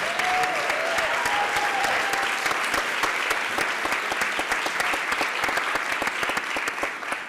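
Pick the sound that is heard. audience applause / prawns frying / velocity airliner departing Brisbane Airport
audience applause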